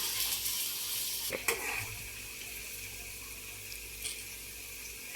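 Potato pieces deep-frying in hot oil hiss and bubble in a steady, fairly quiet wash, with a couple of brief clatters partway through and no talking.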